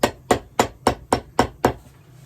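Seven loud, crisp hammer blows land in an even, quick rhythm, each ringing briefly before the next, close up with no talking.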